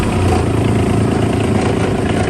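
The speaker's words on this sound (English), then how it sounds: "It's been cold, so we're gonna go ahead and do a quick little cold startup." Diesel engine on a 2000 Bobcat 322 mini crawler excavator with a Kubota motor, running in cold weather at startup, a steady close, loud low chugging that holds evenly throughout without talk.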